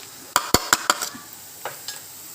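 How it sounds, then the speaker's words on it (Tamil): Onions sautéing in a pan for chicken chukka, heard as a quick run of four or five close scraping and clinking strokes, then a couple of softer stirs over a faint sizzle. "வெங்காயம் நல்லா வதங்கிச்சு."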